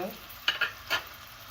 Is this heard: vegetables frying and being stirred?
yes